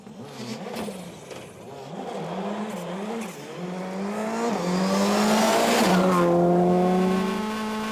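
Rally car on a muddy tarmac stage in Ulster's Irish Tarmac Rally round, its engine rising and falling as it reverses, then revving hard and pulling away, loud and close throughout.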